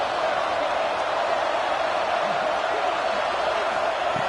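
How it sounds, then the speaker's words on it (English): Roaring stadium crowd in a football video game, a dense, steady wall of cheering noise that holds loud and unbroken throughout, with no single voice standing out. "this crowd is fired up. Listen to this noise here."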